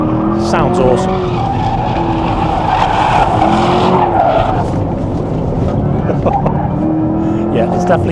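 A McLaren 750S or Corvette E-Ray race car corners on a wet track, engine revving and shifting with tire hiss and squeal, while a voice talks over it.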